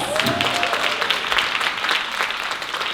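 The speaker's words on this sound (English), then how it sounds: "give a thunderous clap and support to all of the nominees tonight" Steady, dense applause from a large crowd fills the whole stretch, loud and continuous with no pauses.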